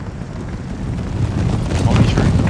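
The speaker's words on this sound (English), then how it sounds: "Oh man, cannon fire coming in hot." Cannon fire in the game Empire: Total War, a continuous rumbling roar of distant booms that swells louder across a few seconds.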